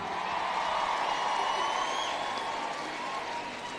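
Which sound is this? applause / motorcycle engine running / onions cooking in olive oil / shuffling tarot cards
applause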